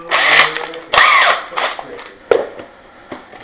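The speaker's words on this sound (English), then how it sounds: "I'm going to drill this with this 32mm hole saw." A 32mm hole saw cuts into a door for a Lockwood 001 lock install, heard as close, loud bursts of grinding bites, three or four short surges separated by brief pauses and ending with a sharp knock.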